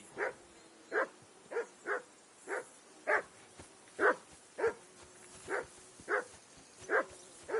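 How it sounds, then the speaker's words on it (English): Dog in the video game Kingdom Come: Deliverance 2 barking steadily, about a dozen sharp woofs at a regular pace of roughly one per half second, moderately loud and alone with no talking. "I assume you can hear that damn dog of yours barking."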